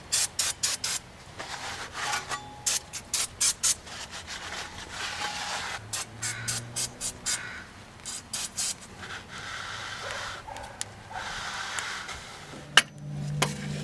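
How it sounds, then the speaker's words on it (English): Brake cleaner sprayed from an aerosol can onto the brake parts of a 1995 Nissan Pathfinder SE 4x4. Short bursts of hissing spray come in irregular runs with brief gaps between them, close and moderately loud, and no one talks. "I'm going to clean this up with a brake cleaner before I put the pads on"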